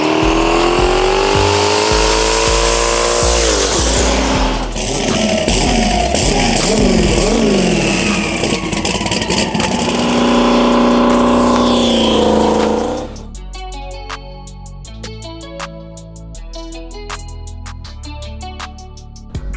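A 1200 horsepower Trans Am with a 91 millimeter turbo and a 388 cubic inch LS engine on Holley EFI roars loud and close, revving and accelerating hard with rising and falling engine tones, then settles into a rough idle.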